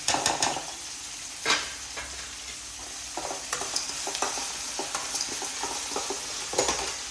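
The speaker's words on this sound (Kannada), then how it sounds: "ಇವಾಗ ಕರಿಬೇವು ಸೊಪ್ಪು ಹಾಕೋಣ." Green chillies and curry leaves sizzle in hot oil, a continuous crackling hiss punctuated by spatula taps and scrapes against the pan, close and fairly loud.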